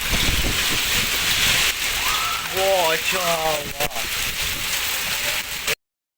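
Steady rain falls on a street in a dense, even hiss that runs nearly the whole clip, with someone talking briefly over it before it cuts off abruptly.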